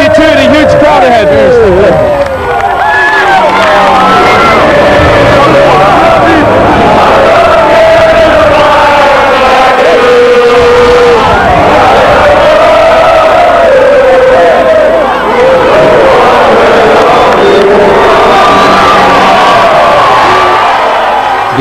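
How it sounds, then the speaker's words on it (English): A huge crowd of Port Vale football supporters celebrating the 1993 Autoglass win, loud and continuous, with massed cheering, whoops, yells and chanting voices filling the whole stretch. "a huge crowd ahead"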